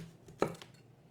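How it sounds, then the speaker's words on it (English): A knife chopping a small onion on a cutting board for a fine dice: one crisp, close chop followed by a couple of faint lighter taps, with no talking. "I'm going to cut up a small onion"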